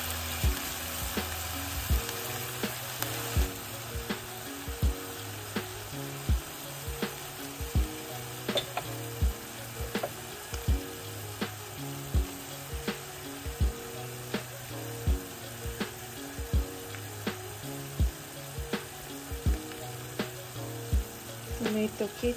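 Vinegar hits a hot frying pan and sizzles steadily, a dense continuous crackle lasting throughout with music playing underneath.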